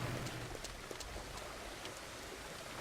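Steady rain hisses in the Farmers Dynasty farming game, a constant broadband patter with faint scattered drops, even and moderately loud throughout, with no talking.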